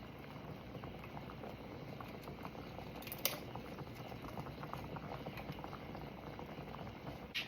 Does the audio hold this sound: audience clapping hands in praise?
no